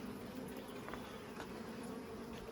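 Honey bees buzz steadily around a hive box holding a large caught swarm, a dense, continuous insect hum close by with no talking.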